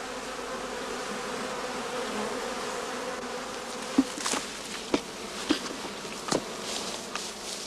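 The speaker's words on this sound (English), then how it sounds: "The bees now set about enlarging the entrance of their skep by gnawing it and smoothing it" Honeybees hum steadily and fairly close at the entrance of a straw skep. Brief louder buzzes from single bees flying past break through the swarm's drone now and then.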